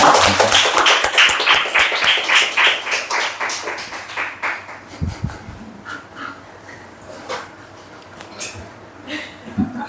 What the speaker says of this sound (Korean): 박수로 주님 앞에 영광 돌립니다.